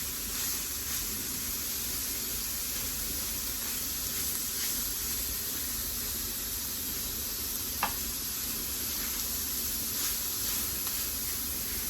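Sausage cooking until browned in a pan for sausage gravy, a steady close hiss and sizzle running continuously, with a single faint click partway through and no talking.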